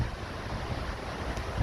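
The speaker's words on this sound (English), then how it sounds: "right now we have wind gusts of up to 35 miles an hour." Strong wind gusting around a Tarptent Double Rainbow Li tent staked out with rocks, a loud continuous roar with buffeting bursts of microphone wind noise and no talking.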